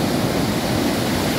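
Sea waves washing onto Clifton Beach, a steady broad rushing surf with wind noise, continuous and fairly loud with no talk.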